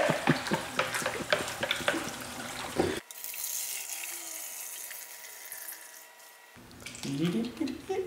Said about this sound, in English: What a perfect pour.